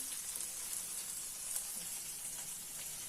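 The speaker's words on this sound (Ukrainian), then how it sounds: "Поки оладки смажаться" Steady crackling sizzle of fritters frying in a pan, a continuous hiss with small pops throughout, close by and fairly quiet.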